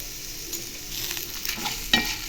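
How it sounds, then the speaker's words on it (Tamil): Dried red chillies, tamarind, garlic, cumin and onion frying in a pan for a horsegram chutney, a soft low sizzle with a few quiet stirring scrapes and one sharper clink near the end. "இதை நல்லா ஃப்ரை பண்ணி எடுத்துடலாம்"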